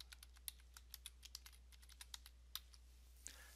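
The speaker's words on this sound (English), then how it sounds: "type the address." Irregular keystrokes tap on a computer keyboard while an address is typed into a report, soft close clicks in a quiet room with no talking.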